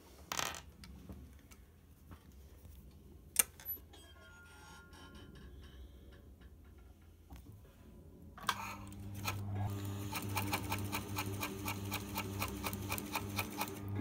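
A sewing machine stitches pin tucks, starting after a quiet stretch with a few small clicks and then running as a steady, rapid mechanical whirr with a regular stitch rhythm.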